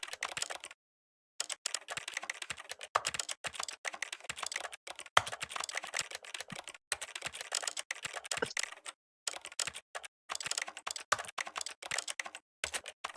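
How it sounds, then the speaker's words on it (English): Keyboard typing in the video game The Stanley Parable: rapid, irregular bursts of crisp key clicks with a few short pauses, close and clear with no talking. "I liked listening to the keyboard typing sounds."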